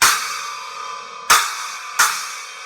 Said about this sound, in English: the 8-inch stag sensor splash sounds like this